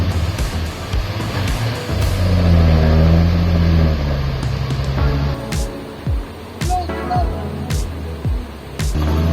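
A 300-horsepower truck engine labours and revs in a deep, loud drone while climbing harsh, steep terrain, then fades into a series of scattered knocks and clunks.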